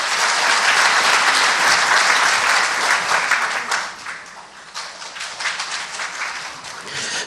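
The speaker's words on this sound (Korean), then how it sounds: "박수로 모시겠습니다" Loud sustained applause from an audience at a public constitutional-reform debate forum in Daejeon, welcoming the city mayor to the stage; dense clapping that thins and softens partway through before continuing.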